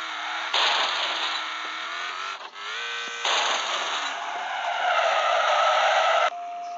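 A Bugatti sports car in a racing video game skidding at very high speed, unable to brake, with a loud sustained tire screech and engine whine that cuts out briefly and returns, no voices.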